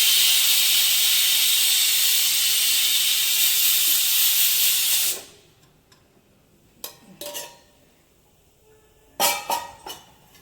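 Hot tamarind kuzhambu with cooked elephant yam and broad beans hitting a hot pan, a loud steady sizzling hiss for about five seconds that cuts off abruptly, followed by a few brief clinks of utensils.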